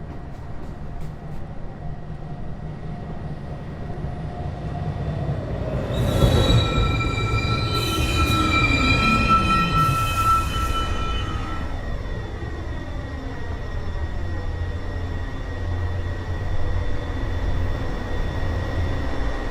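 Downtown local 1 subway train pulling into 215 Street station in New York, a steady rumble with high squealing wheel tones rising and falling as it arrives, no voices.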